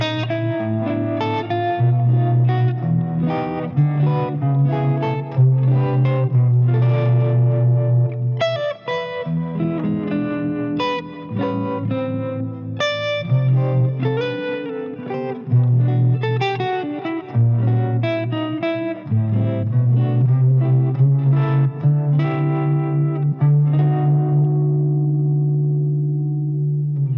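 Revelator RetroSonic electric guitar on the neck pickup with a totally clean tone, playing strummed chords and melodic runs with a warm low end, loud and close throughout with no talking.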